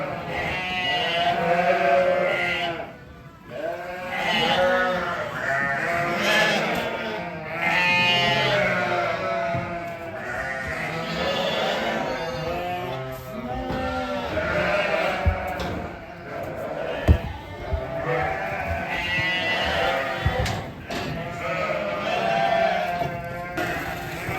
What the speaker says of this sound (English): So these lambs here on the left there now, they're all our replacements. A lot of North Country Cheviot, a few speckledy lambs as well.